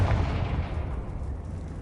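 A fiery Confringo blasting curse detonates in the Hogwarts Legacy game, a deep rumbling explosion tail that stays steady and low for under two seconds with no voices.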